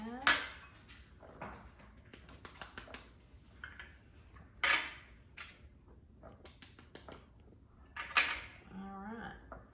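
A spoon scrapes and clinks against a bowl while flour is stirred into ginger snap dough, sounding as scattered close taps and scrapes with a few sharper knocks, under intermittent talk.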